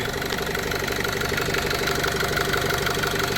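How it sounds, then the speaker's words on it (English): A Vauxhall Vivaro van engine idles steadily at close range after EGR valve removal, a continuous even rumble with a faint rhythmic knock and no voices. "Well, the motor, the engine sounds better,"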